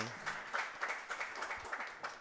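Spectators at a women's pool tournament, the WPBA Napa CueSpeed Invitational, clapping in a quick rhythmic beat of distinct claps, fairly faint and steady throughout.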